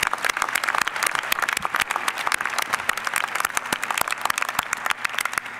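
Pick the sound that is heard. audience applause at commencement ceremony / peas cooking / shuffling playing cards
audience applause at commencement ceremony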